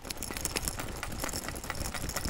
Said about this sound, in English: That's the noise of the backpack whenever you run